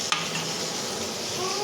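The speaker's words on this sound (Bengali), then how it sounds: "দেখেন চুলায় হচ্ছে আমি মাংসটা বসিয়ে দিয়েছি।" Meat cooks in a pot on a stove with a loud, continuous sizzle and hiss, close by, broken only by a brief clink of stirring near the start.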